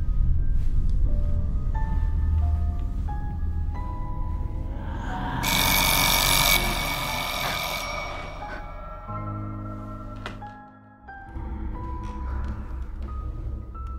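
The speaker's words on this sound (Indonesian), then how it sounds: "Suara alarm itu berasal dari ruangan di balik pintu kayu" Electronic alarm timer ringing in a horror film scene, a repeating tonal beeping melody with a sudden bright noisy burst partway through and a low droning hum beneath, fairly loud and continuous.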